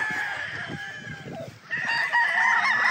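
Early Bird bloodline blue-legged dome rooster crowing once nearby, a long loud call, with clucking from other fowl and a farm backdrop.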